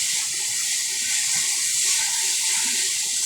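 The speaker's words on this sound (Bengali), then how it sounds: "এবার জল দিয়ে দেবো, জল দিয়ে দিলে জলটা গরম হোক ভালো করে" A steady, loud rush of water pours into a pan while a fish curry with cauliflower and potato is being made, running continuously throughout with no talking.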